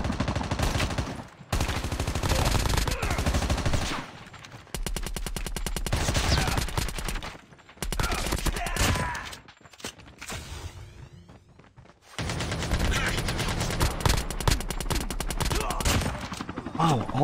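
Rapid bursts of gunfire from the Call of Duty Mobile battle royale video game, loud and dense, with machine-gun strings broken by short pauses and quieter stretches.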